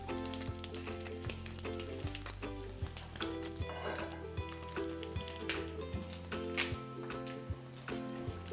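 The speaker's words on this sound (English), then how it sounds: "I like to put in a saute pan really quick just to get it a little caramelized." Ribs sautéing quickly in a pan with ginger, garlic and peanut oil give a soft continuous sizzle with crackling pops, beneath a steady, rhythmic musical track with regular beats and sustained tones.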